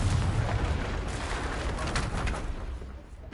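A Confringo fire spell blast in Hogwarts Legacy, a loud booming burst with a dense crackling roar that rolls on for a few seconds, then fades slightly.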